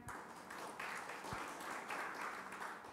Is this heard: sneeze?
no